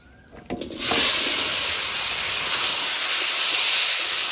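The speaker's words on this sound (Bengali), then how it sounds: "এবার মাছ ভাজা তেলে আলুগুলো সব ভেজে নেব।" Potato pieces go into hot oil left over from frying fish, a sudden loud hiss that rises within the first second and then holds as a steady, close, broad sizzle with no voices.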